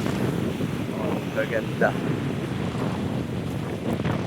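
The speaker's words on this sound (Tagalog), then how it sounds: "Sulit na yung hangin." Steady wind blowing at a seaside spot in San Nicolas, Batangas, a continuous broadband rush and microphone buffeting throughout, with a brief spoken exclamation near the middle.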